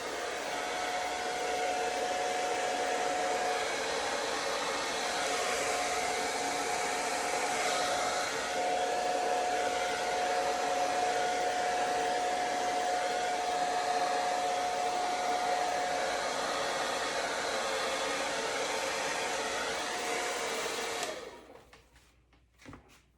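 A hair dryer blows steadily at close range for about twenty seconds, a constant even whoosh with a faint whine, then cuts off abruptly near the end.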